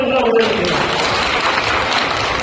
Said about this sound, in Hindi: एक बार ताली मिलाओ